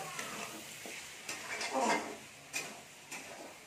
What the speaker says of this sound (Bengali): এখানে পাঁপড় ভেজেছি, উচ্ছেটাও ভাজা হচ্ছে।